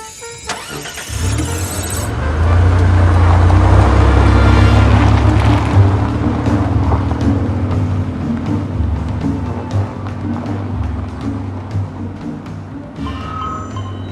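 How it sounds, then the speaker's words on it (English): Car engine cranking and catching, then revving loud with a deep rumble before settling into a steady idle, close by, with no one talking. "I'm starting the car."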